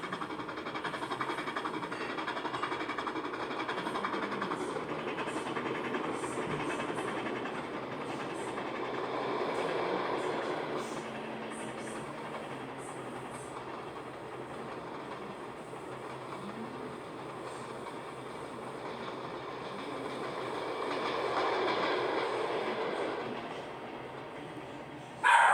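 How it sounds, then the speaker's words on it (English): Southern Pacific 4449 steam locomotive running on its return stretch toward Portland, a continuous rolling rumble with wheel clatter that swells near the start and again toward the end, with no talk. "The locomotive is on the home stretch of her journey back to Portland"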